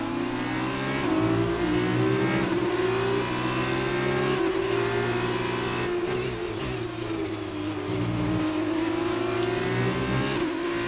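A Formula 1 car engine in the F1 2019 racing game, loud high-pitched revving that climbs through gears with brief dips at shifts, continuous and close throughout.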